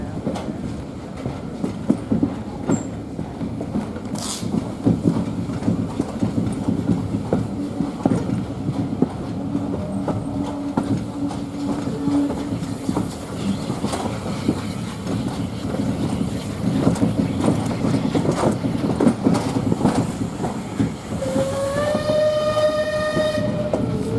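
A train on the Swanage Railway, a heritage line by a castle crossing, rumbles past with steady rolling wheel noise close by, and a horn sounds clearly near the end.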